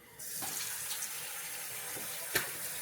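Water runs from a tap into a sink, a steady hissing stream that starts abruptly and continues throughout, close and fairly quiet, with a few faint clinks and no talking.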